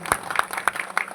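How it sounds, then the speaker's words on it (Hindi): Audience clapping at a Hindi-language gathering, a short spatter of separate claps, moderately close, with no speech over it. "और हम चाहेंगे इनके मान सम्मान में एक बार जोरदार ताली बजनी चाहिए।"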